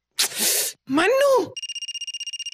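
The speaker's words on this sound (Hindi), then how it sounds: "हम शौर्य भैया के फोन पे इतने फोन करेंगे" Two short vocal sounds, then a rapid electronic ringtone trilling in quick repeated pulses, loud and close.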